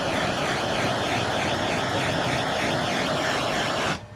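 A heat gun warms the glue nozzle before a shoe is glued onto a cow's hoof, giving a loud, steady, broadband blowing roar that runs unbroken for about four seconds and then cuts off abruptly.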